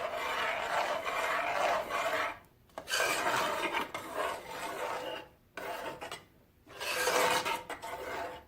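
Lasagna sauce being stirred in a pot with the heat off, rhythmic rasping scrapes of a spoon against the pot in several bursts separated by short pauses, close and clear.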